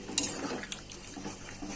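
A metal spatula scrapes and clinks in a pot of fish curry with gourd and potato, soft stirring and knocks close by but faint, over a low simmering hiss.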